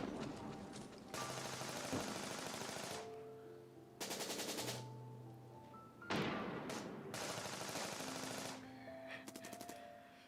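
Video game gunfire in Honkai Impact 3rd: repeated bursts of rapid machine-gun fire, each lasting a second or two and separated by short pauses, loud and close, with tonal music and effects between volleys.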